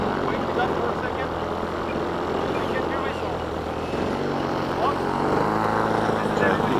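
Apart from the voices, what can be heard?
gas-powered model airplane engine running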